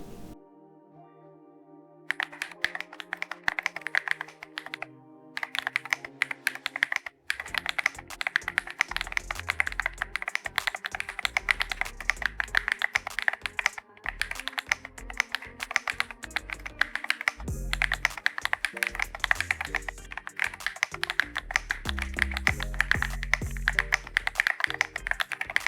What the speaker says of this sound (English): Now let's put it all back and here's the final sound test.